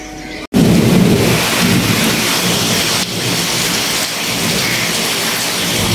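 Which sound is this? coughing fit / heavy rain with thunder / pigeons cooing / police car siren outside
heavy rain with thunder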